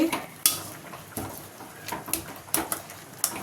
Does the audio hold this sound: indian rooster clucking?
no